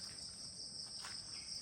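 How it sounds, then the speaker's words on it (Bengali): Crickets chirp in a steady, unbroken high trill that carries through the whole moment, with no voices and only faint background texture. "ঝিঝি পোকার ডাক পাখির ডাক আর বানরের ডাক শুনছি"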